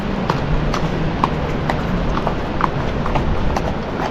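Horse hooves clop steadily and close by on the Amarnath Yatra pilgrimage trail near Sonamarg, an even, continuous rhythm over rough outdoor noise.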